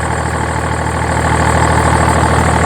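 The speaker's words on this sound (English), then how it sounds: "A little bit of belt squeal going on." A BMW E61 525d diesel engine idles close up, a steady loud clattering drone with a faint high whine from a slipping belt riding over it, continuous and without voices.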